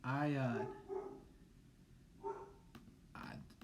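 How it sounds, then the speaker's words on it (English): A dog barks indoors in a few short, separated bursts, faint and somewhat distant, while someone talks over it nearby. "I don't know why the dog's barking, if you can hear that."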